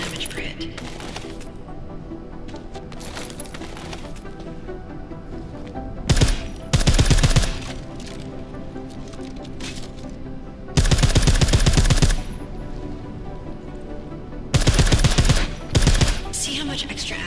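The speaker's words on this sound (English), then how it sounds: "Silencers reduce sound, but the trade-off is less stopping power," Suppressed gunfire in the video game Deus Ex: Mankind Divided, short bursts of muffled shots, three clusters standing out loudly over a steady background of game ambience and music.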